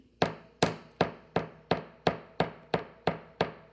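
A hammer taps wire being shaped into paisley earrings, about ten even, crisp metallic strikes in a steady rhythm, each ringing briefly and decaying, close and clear with no talk.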